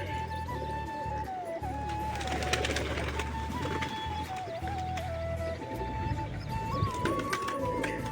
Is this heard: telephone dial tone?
no